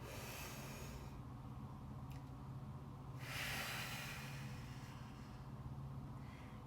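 Deep, slow breathing in and out during a seated chair stretch at a desk, a broad airy rush swelling midway over a steady low background hum, close and alone with no talk.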